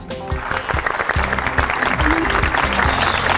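Audience applause welcoming a professor at a research award ceremony, a steady burst of clapping over a low rhythmic music bed, sustained for a few seconds.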